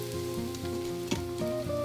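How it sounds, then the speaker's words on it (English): Bacon sizzles and browns in an Instant Pot on its sauté setting, a steady crackling hiss that runs through the whole moment beneath a constant tonal hum. "I'm letting this bacon brown completely."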